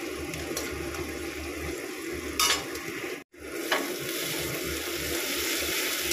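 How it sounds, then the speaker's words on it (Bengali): Peanuts frying in a kadai for red amaranth greens, a steady close sizzle with a few stirring scrapes and a brief dropout midway. "বাদাম ভেজে নিচ্ছি লাল শাকে দেওয়ার জন্য।"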